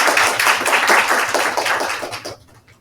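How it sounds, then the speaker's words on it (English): A short burst of audience clapping for panelists at an early-career researcher panel discussion on work-life balance, fairly close and dense, fading out after about two seconds. "So a round of applause for them."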